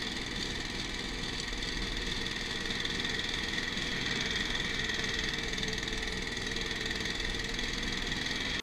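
A 15-horsepower Lifan 190FD engine on an X-Motors Opti Max motorized towing unit runs at a steady idle with a continuous mechanical drone and faint knocking, even and unchanging, with no talking.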